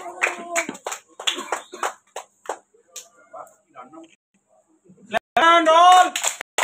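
Children clap their hands at a teachers' day event, a dense burst of group clapping breaking out after stretches of talk, loud and close.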